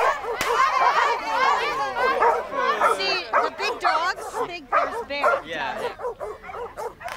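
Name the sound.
dogs barking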